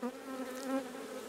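Honeybees buzzing around a hive at a farm apiary, a brief, steady droning hum with overlapping wingbeats close by, with no speech.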